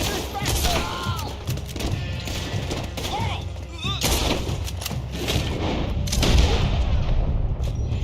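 Gunshots crack repeatedly in Red Dead Redemption, a western video game, with sharp bangs and booms scattered throughout alongside shouting character voices and game sounds.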